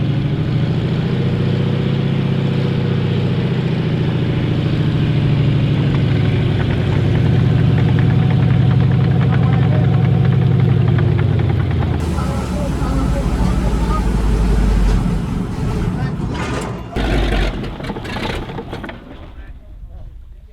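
A tank engine idles with a deep, loud knocking rumble, then the pitch shifts and the sound breaks into rougher clanking and revving as the tank pulls away.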